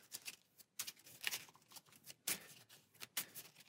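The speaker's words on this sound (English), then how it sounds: "we'll shuffle these back into our deck" Playing cards from an Arkham Horror card game are riffled and shuffled back into a deck, several quick crisp bursts of rustling and snapping, close and quiet, with no talk.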